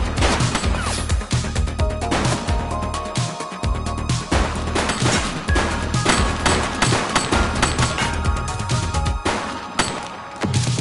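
Dense, continuous gunfire rattles through a police shootout in The Precinct, sharp overlapping bursts and heavy impacts packed together with no pause for the whole stretch, loud and close.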